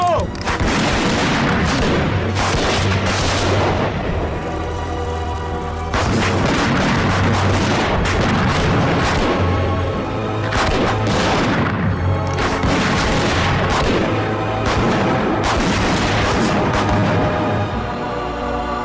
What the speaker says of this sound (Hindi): उड़ा दो, सबको उड़ा दो।